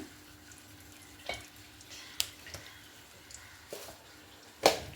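Small cinnamon pieces drop into about two tablespoons of hot oil for coriander leaf rice, giving a faint, steady sizzle broken by a few sharp crackles and one louder pop near the end.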